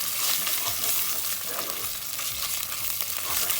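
Thai red curry paste frying in hot oil, a steady loud sizzle throughout with occasional low scrapes of stirring, close up and with no voices.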